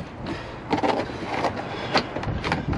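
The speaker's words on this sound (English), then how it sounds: "the noise you heard was these four clips being released." Four plastic trim clips pop free as the boot trim of a Mini R50/R52/R53 is pulled away: a few sharp clicks and snaps over a rustly scraping background, close by.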